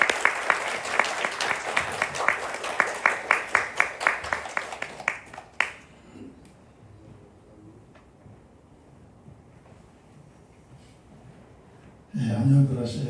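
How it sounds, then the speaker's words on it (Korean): Church congregation clapping together during a Sunday service, a burst of distinct, fairly rhythmic claps that fades after several seconds into quiet room tone, with a voice starting up near the end. "오늘도 특별한 일을 한번 박수로 한번 또 축복하도록 하겠습니다."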